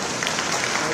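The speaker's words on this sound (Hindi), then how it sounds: "एक बार जोर से तालियां हो जाओ" A brief burst of crowd clapping at a Rajasthan thank-you event for the Chief Minister, a dense, even patter lasting only a moment.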